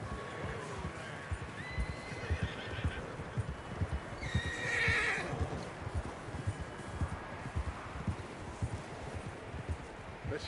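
A horse in the Red Dead Redemption 2 video game whinnies loudly midway while its hooves clip-clop steadily throughout, close and clear, over faint rustling.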